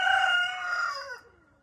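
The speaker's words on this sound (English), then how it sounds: "you can even have a rooster because of that fact that they crow" A single rooster crows loudly and close, a long strained call that trails off and fades into quiet.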